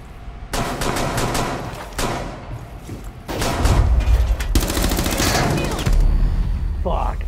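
MP5 firing in single-shot mode in Rainbow Six Siege: long stretches of loud, dense gunfire with rapid repeated shots, broken by short pauses, close and dominant, with game noise mixed in.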